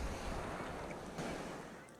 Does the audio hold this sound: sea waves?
yes